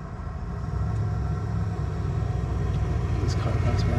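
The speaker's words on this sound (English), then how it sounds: "This car runs by." A car driving by on a residential road near a mailbox, a low rumble swelling in after the first half second and holding steady as it passes.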